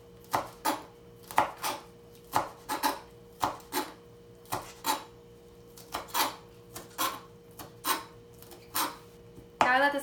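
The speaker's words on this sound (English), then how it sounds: "You will get the cilantro in your hand tightly, and then you will cut thin slices throughout." A knife chopping a tightly held bunch of cilantro on a cutting board, with about twenty crisp, close taps in an uneven but steady rhythm over a faint background hum.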